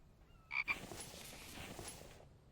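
A frog croaks in the video game The Infected, a brief faint double croak over quiet ambient hiss.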